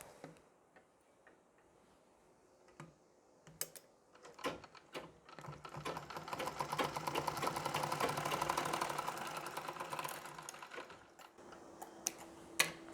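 A sewing machine stitches a Nauvari saree, starting with scattered clicks before a steady rapid run of needle ticks builds and then fades, close and quiet, with no speech.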